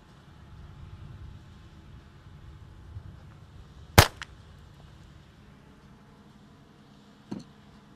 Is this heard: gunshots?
yes